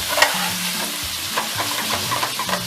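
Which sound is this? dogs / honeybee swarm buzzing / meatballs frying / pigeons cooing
meatballs frying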